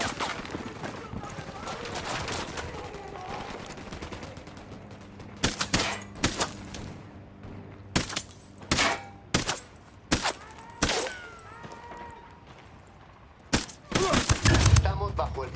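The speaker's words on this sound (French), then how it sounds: "Estamos bajo el fuego de armas enemigas y no sabemos cuántos son." Enemy gunfire in the Ghost Recon Wildlands video game during an attack on General Baro: a low rumbling battle bed, then loud, repeated bursts of rapid automatic fire crackling close by through the second half.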